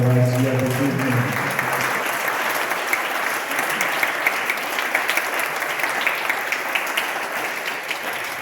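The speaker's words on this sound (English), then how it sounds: "give Keith a round of applause" An audience at the Bandra Gymkhana Annual Elocution Competition applauds steadily and loudly to welcome a live performer, dense clapping sustained throughout, with a brief tonal sound at the very start.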